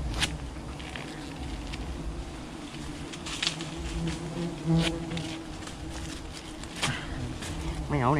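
Wild honey bees buzz steadily around a hive being harvested outdoors, a continuous close drone with scattered sharp crackles and taps of handling, and a voice faintly under it.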